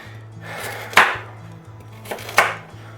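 A knife dices carrots on a cutting board for chicken noodle soup, with sharp close chopping strikes in two quick clusters over a steady low background hum.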